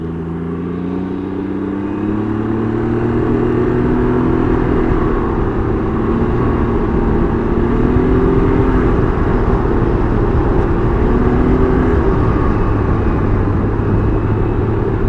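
A Can-Am Ryker 900 three-wheeler's engine drones loud and steady during a test ride, pitch climbing gently as it accelerates under constant wind rush, with no talking.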